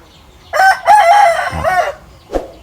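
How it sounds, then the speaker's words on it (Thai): A rooster crows loudly and close by in the morning, one full drawn-out cock-a-doodle-doo followed by a short clucking note. "ขันสองตัวช่วยกันขันครับ"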